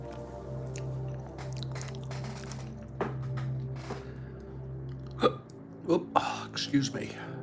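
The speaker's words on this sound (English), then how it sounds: "I got the hiccups" A man hiccups several times in sharp, short bursts near the end, close to the microphone, following a stretch of quieter background noise.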